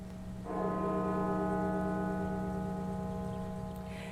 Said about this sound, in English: Bells at the National Cathedral tolled 500 times today